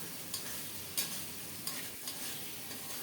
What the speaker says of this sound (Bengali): এখন দিচ্ছি ভেজে রাখা আলুগুলো